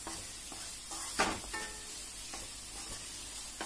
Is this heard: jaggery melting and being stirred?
yes